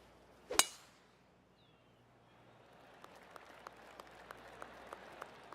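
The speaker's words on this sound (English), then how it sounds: "I can hear the golf claps around the course" A single sharp burst of clapping, then quiet before scattered, rhythmic applause returns faintly in the distance, like a small gallery crowd around a golf course at TPC Boston, from the video game PGA Tour 2K25.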